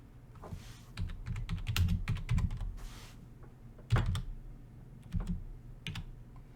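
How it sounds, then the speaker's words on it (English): Someone types a street address on a computer keyboard. The keys click in quick uneven bursts with short pauses and a few heavier taps, close and clear with no talking. "Sometimes you have to just keep typing the address before it shows up."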